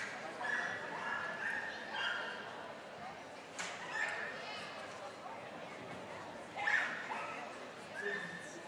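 A dog barks and yips during a large-dog team jumping run on an agility course at the 2018 World Championship, short sharp barks recurring through a commentator's continuous voice over crowd murmur.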